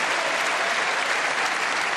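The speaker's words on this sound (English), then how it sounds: "For cheering in every ball, and why not?" A dense, steady wall of applause from the crowd at the 2023 UK Championship snooker final, loud and continuous throughout.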